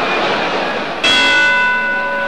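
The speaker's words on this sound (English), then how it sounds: "And there's the bell to end a sensational first round." A boxing ring bell rings once to end the first round of a Patterson versus Johansson heavyweight fight, a sharp metallic strike ringing out over arena noise and decaying slowly.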